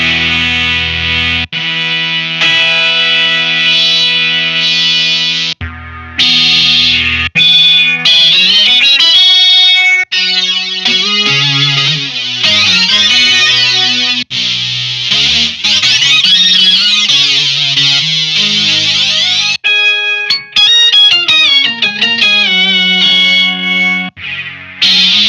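Boss SY-1 guitar synthesizer lead 1 patch variations play loud and continuous, switching through distorted, chorused synth tones with sliding pitches and short gaps between phrases.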